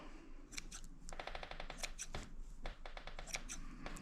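Scissors snipping through yarn for a baby blanket, a quick run of crisp repeated clicks and cuts close up over a faint background hum.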